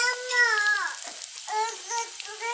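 Onion, green chili and whole cumin fry in oil in a pan with a soft, steady sizzle, mostly under a voice talking close by.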